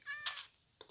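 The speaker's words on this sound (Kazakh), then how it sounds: "Мысық." A short cat meow from a Minecraft game, close and clear, followed by a second brief meow, with soft background noise.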